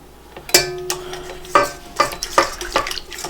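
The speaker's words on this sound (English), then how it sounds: "I'm going to whisk that together" Honey mixture for challah dough whisked in a bowl, a series of separate clinking taps and scrapes at an uneven pace, close and fairly clear with no talking.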